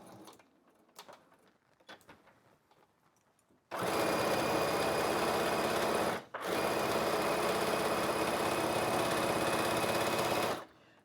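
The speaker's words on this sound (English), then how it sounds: "I'm using the edge of the foot to sew all the way around." A sewing machine stitches around the edge of a quilted hot pad with batting, running in two loud, steady bursts separated by a brief pause, after a quiet stretch of faint handling noises.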